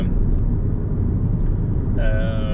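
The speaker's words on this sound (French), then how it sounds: "On entend légèrement les voitures passer." Passing traffic on a motorway, heard from inside an electric car: a steady, muffled road rumble throughout, with a brighter vehicle whine rising near the end as another car goes by.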